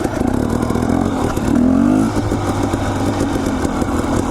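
An enduro dirt bike engine runs loud and close at a steady, rough rumble, with one brief rise in revs in the middle, during a trail ride near Warm Lake and Stolle Meadows in Idaho.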